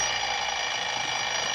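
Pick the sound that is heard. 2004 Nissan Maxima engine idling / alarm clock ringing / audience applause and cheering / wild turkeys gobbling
alarm clock ringing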